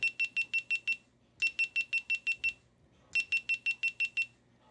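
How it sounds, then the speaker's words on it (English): A GoPro camera powers off with rapid bursts of high, bright beeps, three groups of about six quick pulses each, clear and close in an otherwise quiet room. "The sound when you turn the GoPro off, that is the sound that you are hearing here."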